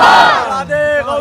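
A crowd at a religious gathering where a Ramadan kalam is being recited roars a slogan response in unison, one loud chanted shout that fades and is followed by a shorter second burst of voices.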